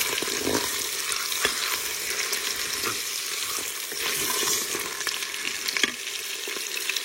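Meat browning in hot leftover cooking oil, a steady dense sizzle and crackle with occasional sharp pops and utensil clicks, close and loud throughout, no voices.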